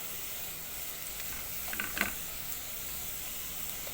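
Onion browning in oil for Egyptian sayadieh fish rice, a soft, steady sizzle with faint crackles and a brief scrape near the middle, quiet and without talk.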